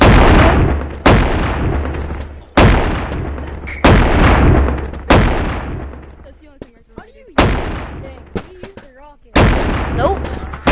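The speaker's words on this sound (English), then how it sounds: "an infinite ammo shotgun" Shotgun blasts from an infinite-ammo shotgun in the video game Animal Company boom loudly about every second or so, each sharp report decaying quickly, with faint voices between shots.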